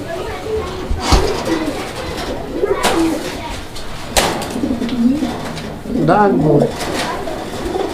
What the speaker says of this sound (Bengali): আমার ঘরে এইবার নরে ডাক উঠছে